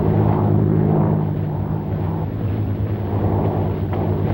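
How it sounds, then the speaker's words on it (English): A propeller airplane engine roaring as the plane takes off, a loud, dense, continuous drone with a low rumble that holds steady throughout, with no voices. "Start your motor and take off at once. Somebody's stealing the plane."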